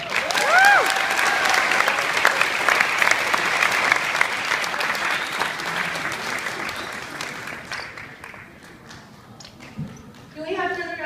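Conference audience at a MEChA high school conference at SDSU applauding steadily, loud and dense, with cheers and voices mixed in, tapering toward the end.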